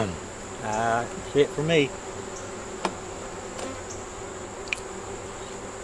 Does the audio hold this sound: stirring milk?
no